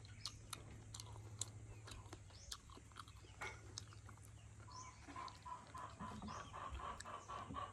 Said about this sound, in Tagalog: Ingay na manok, mga itlog niya ata.